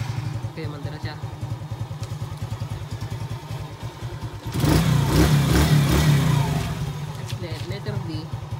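A motorcycle engine cranks and fires up via a homemade remote-control starter, the steady idle chugging rhythmically before a louder burst of revving midway, then settling back to a close idle.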